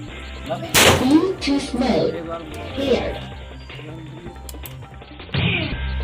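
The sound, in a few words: gunfire from an illegal weapon in a birthday video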